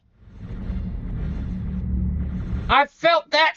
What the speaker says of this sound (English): That lightning was right on top of us.